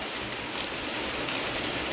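Heavy rain pours down steadily as a dense, even hiss of water, loud and continuous with no breaks and no voices.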